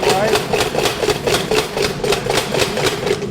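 Rapid, steady hammer blows on a hot knife blank made from a rasp as its tail is drawn out at the forge, ringing over a constant machine hum.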